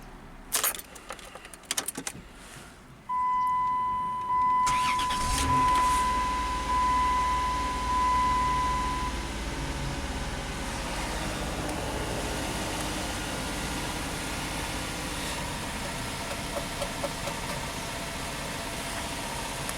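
A Dodge Caravan with a new PCM and high idle: keys jangle and click, then the engine starts and settles into a steady running hum with mild vibration, close by, with no talk.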